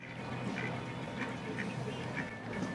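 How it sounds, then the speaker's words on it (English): Ducks being fed at a boat dock quack in scattered short calls, a few separate quacks over a steady wash of water and outdoor background noise, moderately close but not loud. "Sherry decided to feed the ducks."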